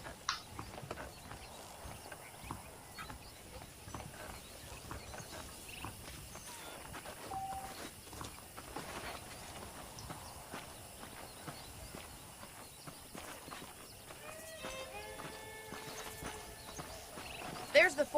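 Steady clip-clop of horse hooves walking at a moderate pace in Red Dead Redemption, with a brief whinny near the end and ambient outdoor game sounds behind.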